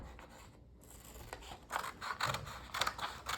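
Scissors snipping through a paper cup being shaped into a DIY french fry holder, a few quiet, close crisp cuts in quick succession after a brief pause, with no talking.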